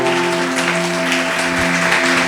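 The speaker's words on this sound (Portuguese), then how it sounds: "Palmas para o Senhor" A church congregation claps in praise during a worship service, a steady wash of applause over sustained, droning musical tones.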